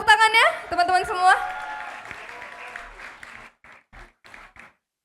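A voice speaks loudly at first, then scattered clapping follows, fading into a few faint, separate claps at the end.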